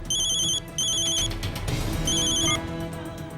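Telephone ringing in two electronic bursts with a short gap, then a third burst starting around two seconds, over low background noise with a faint music bed, part of a Hindi TV drama scene.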